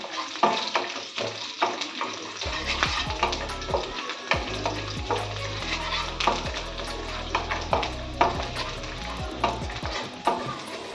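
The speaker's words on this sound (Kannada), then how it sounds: "ಬೆಳ್ಳುಳ್ಳಿ ಹಾಕೋತಾ ಇದ್ದೀನಿ. ಇದನ್ನು ಚೆನ್ನಾಗಿ ಫ್ರೈ ಮಾಡ್ಕೋಬೇಕು." Crushed garlic frying in a pan, a steady close sizzle with frequent spatula scrapes and stirring clatter throughout, fairly loud and with no talk.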